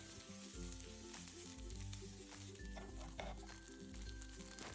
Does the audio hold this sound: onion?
yes